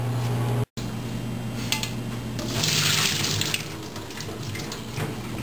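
Boiled potatoes are drained from their cooking water, a rushing pour and splash rising briefly, then settling into trickling water in a kitchen, with no talk.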